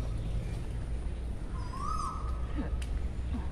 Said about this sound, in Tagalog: Yung ibon lagi na lang tumutulog ng gano'n.